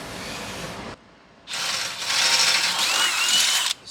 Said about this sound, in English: we're drilling our 2 holes.